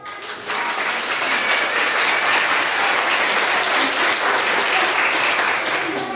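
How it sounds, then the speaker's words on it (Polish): Loud, dense applause from parents in the audience at a kindergarten stage performance, a sustained wash of clapping hands that stays at full strength from just after the start to the end. "Jeszcze raz wielkie brawa."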